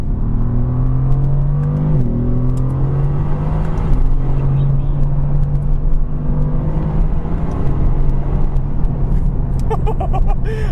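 A tuned 2018 Mercedes-AMG GT R engine growls steadily and loudly from inside the moving car, with a low droning tone that dips around two seconds and continues over constant road rumble.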